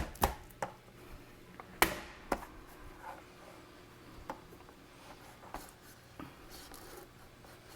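A knife cutting into a roasted spaghetti squash, a few sharp near thuds and scraping strokes spaced irregularly over quiet room tone.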